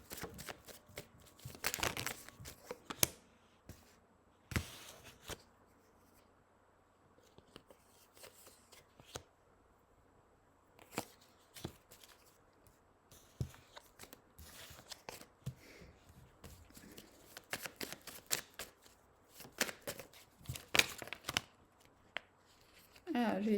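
Handwritten coaching cards and an oracle deck are shuffled by hand in repeated crisp riffling bursts, close and clear, with someone speaking softly between and over the shuffles.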